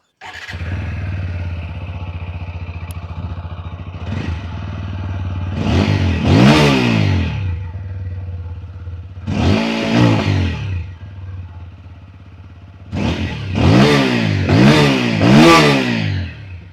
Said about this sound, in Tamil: அந்த பைக்கோட எக்ஸாஸ்ட் நோட் எப்படி இருக்குது அப்படின்னு நம்ம இப்போ பார்த்துடலாம்